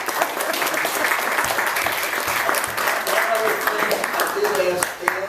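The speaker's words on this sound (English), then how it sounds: "You can all clap." An audience applauds after a talk, a dense, steady wash of many hands clapping together that holds for about five seconds before tapering at the end.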